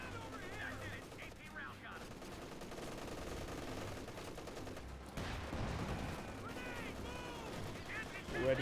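Company of Heroes 2 battle with steady machine-gun and rifle fire crackling through distant explosions and game ambience, a busy continuous din throughout.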